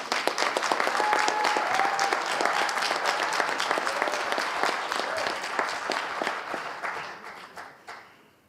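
Sustained audience applause at a French high school debate and eloquence contest, dense clapping from a large crowd holding steady for several seconds before fading out near the end.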